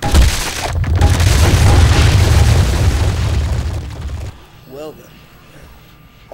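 A rocket launcher blast in the 7 Days To Die game erupts into a loud, rumbling explosion that roars for several seconds before cutting off, followed by a voice speaking.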